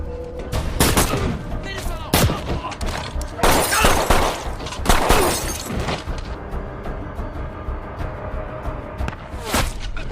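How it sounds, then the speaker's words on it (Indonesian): Gunfire bursts in a film action scene where a man is shot through the hand, with sharp broadband cracks clustered near the start and middle over a continuous noisy soundtrack, fading toward the end. "Peluru menembus tangan si Tyler"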